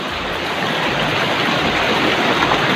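Continuous rushing river water flows steadily, a dense, close stream sound with no voices.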